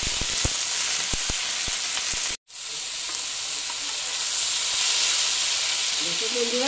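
Ridge gourd pieces fry in a hot pan with a steady, close sizzle and hiss, a few sharp clicks of stirring at first, then a brief cut before the sizzling resumes unbroken.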